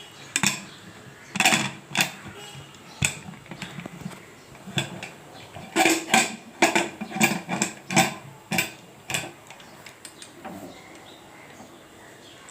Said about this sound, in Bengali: এবার প্রেসারটা আমি আটকে দেবো।